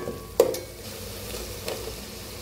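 Tomatoes going into a masala for Tamil Nadu style kushka, with a sharp clack of a spoon on the pan and a second knock before a soft, steady sizzle carries on.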